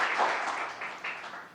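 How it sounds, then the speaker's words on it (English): Short burst of audience applause at a government address, soft and somewhat distant clapping that swells and fades in uneven waves. "Let's give a huge round of applause to Rodney"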